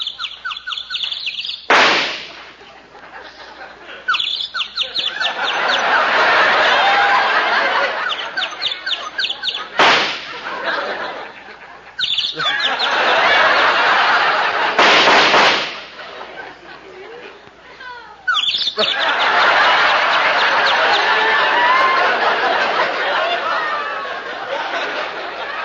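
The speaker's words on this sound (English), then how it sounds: "You see that little bird sitting up in that tree?" A radio show sound effect of a small bird chirping in a tree plays as a loud, continuous bed of bright chirps and twitters, broken by several sharp cracks like shots.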